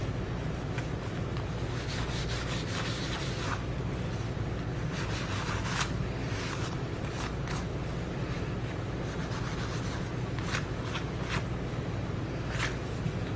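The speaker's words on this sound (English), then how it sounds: "run my distress ink, or my distressing, over the bookmark to kind of highlight some of the wrinkles." Distress ink rubbed across a paper bookmark, a soft, continuous scratchy scuffing in quick repeated strokes, close and quiet with no talking.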